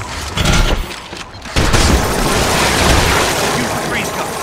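Freeze gun blasting enemies in the video game Resistance 3, with dense, continuous booming gunfire and explosive bursts, loud and close, after a brief lull, with a voice talking over it.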